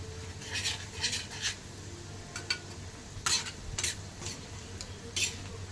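Amla pieces fry in hot oil in a pan as asafoetida goes in, with a low sizzle under repeated bursts of metal spoon scraping and stirring against the pan.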